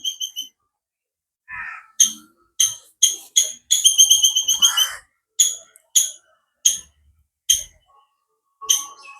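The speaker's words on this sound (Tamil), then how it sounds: "பறவைகள் இந்த சத்தம் வந்து கொண்டே இருக்கு" Bright, high whistled bird calls repeat in short separate bursts, loud and close, with a rapid trill near the middle and silence between notes, at a nature lodge in Jaffna.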